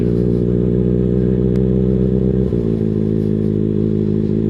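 Motorcycle engine running steadily and loud up close as the clutch is let out and throttle applied to pull away, a continuous low droning hum with a slight pitch shift midway.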